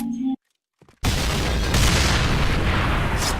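A short burst of sound, a brief silence, then a heavy booming explosion erupts into a sustained loud rumble and crackle of debris, like a game blast.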